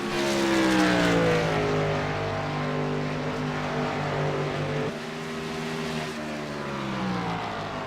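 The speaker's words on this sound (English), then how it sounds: "He's really lifting off the throttle in them turns." Race car engine on a broadcast, the driver lifting off the throttle through the turns: a steady droning engine note that rises and falls in pitch, dipping sharply midway as the throttle is lifted, heard at a moderate distance.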